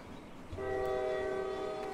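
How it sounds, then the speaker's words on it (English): A train in the Roblox Jailbreak video game sounds a sustained, steady horn tone that starts after a short rumble and holds to the end over a low background hum. It is moderately loud, with no talk. "There's a train going"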